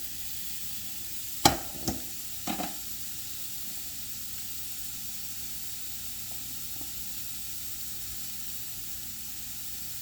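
Seafood browning in a pan for gumbo gives a steady soft sizzle and hiss throughout, with a few sharp utensil clicks near the start, close and fairly quiet.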